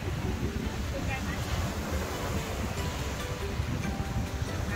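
Strong wind blusters across a microphone along the scenic route to Phraya Nakhon Cave, a loud, continuous rumbling roar with faint rustling above it.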